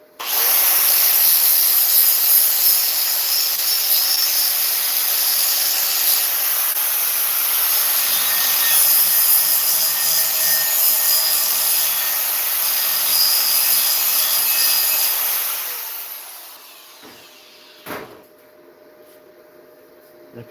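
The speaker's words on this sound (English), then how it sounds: "If you're wondering why I'm grinding, look at that." Steady, loud grinding on a gate runs continuously for about fifteen seconds, then cuts off and leaves a quiet room with a faint knock.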